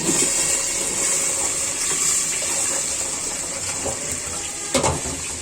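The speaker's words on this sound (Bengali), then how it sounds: "এখানে আমি এই যে বাটিটা ধুয়ে নিচ্ছি" A bowl with egg residue is washed under a running kitchen tap, a steady close gush of water with brief clatters and splashes as the bowl is handled.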